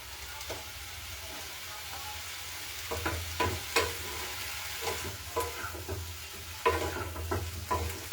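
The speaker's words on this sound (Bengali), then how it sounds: "খুবই নরম হয় মাশরুম, তাই বেশিক্ষণ ভাজার খুব একটা প্রয়োজন হয় না।" Mushrooms fry in butter and garlic with a low, steady sizzle, broken by the scrape and clatter of a spoon stirring the pan at irregular intervals.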